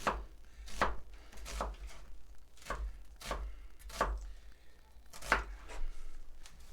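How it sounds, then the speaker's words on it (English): A knife julienning an onion on a cutting board: about nine crisp, regular chops in a steady rhythm, close and clear with no talking. "I'm just going to julienne this here onion"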